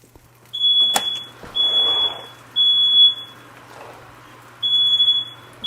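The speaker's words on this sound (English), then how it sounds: "Setting off alarms here." A smoke alarm, set off by cooking pork belly without the fan on, beeps in long shrill bursts, four pulses with gaps between, over a quiet room with a faint hum.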